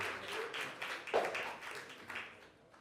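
A round of applause at a New York City mayoral event for a plan launch, quiet, sparse clapping from a small crowd fading over a few seconds, no talk.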